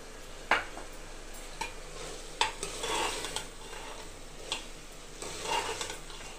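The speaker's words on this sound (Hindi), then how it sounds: "अब इसको भूनूंगी, अच्छे से भून दूंगी।" Coarse minced meat qeema fried with onion and green chilli, heard as a quiet continuous sizzle broken by sharp spoon scrapes and taps against the pan at irregular intervals.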